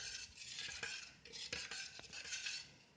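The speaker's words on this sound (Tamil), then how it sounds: "அது வரைக்கும் நம்ம கைவிடாமல் நல்லா கலக்கிட்டே இருக்கணும்." A spoon scrapes and stirs steadily through a thick homemade herbal bath-soap mixture of kuppaimeni, neem and aloe vera in a pot, with close, continuous swishing and soft clinks.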